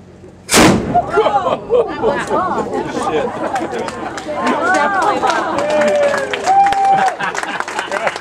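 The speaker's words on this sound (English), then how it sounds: "Stand by to fire. Cover your ears. Cover your ears. This is pretty loud. Fire. Fire." One huge blast from a ship's cannon fired with a half charge booms out at a Fourth of July event, then crowd noise follows as people cheer, clap and chatter loudly for several seconds afterward.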